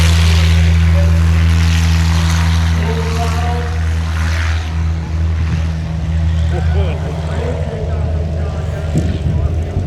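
A STOL aircraft with a big thick wing, front slats and oversized tires flies during the STOL competition at EAA AirVenture Oshkosh, its engine a loud, steady drone throughout with crowd noise and an announcer talking over it.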